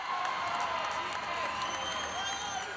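A crowd at a New Zealand versus Fiji netball semi-final gives off a steady, even roar of cheering and clapping that holds without a break throughout.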